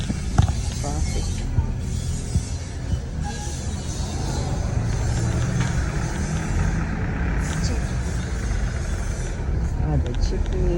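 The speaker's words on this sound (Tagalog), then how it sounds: "Traffic." Rush hour traffic rumbles through Baguio City, with steady engine and idling noise from cars and trucks filling the whole stretch while people talk over it.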